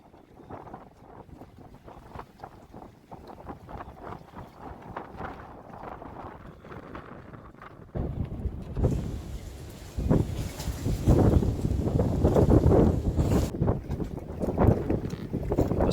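Storm wind at a marina beside sailboats buffets the microphone, gusting harder and louder partway through into a sustained rough roar with heavy low rumble and scattered knocks.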